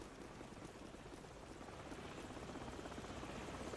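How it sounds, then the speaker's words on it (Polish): Helicopters in Call of Duty 4: Modern Warfare make a steady, dense rotor drone. The faint, continuous thrum grows slightly louder toward the end, and no voices are heard. "Dobra, ale są kolejne śmigłowce."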